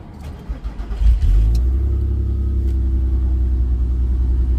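Audi TT MK1 with the 3.2 engine, left unstarted for over a week, cranks for about a second then catches and settles into a loud, steady low idle rumble, heard close up with no talking.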